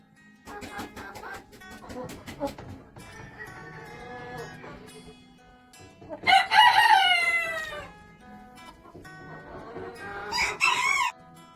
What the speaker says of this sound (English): So large black Orpingtons, and I think we've got a little video of them.